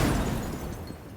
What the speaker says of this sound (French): bombes incendiaires font plus d'explosions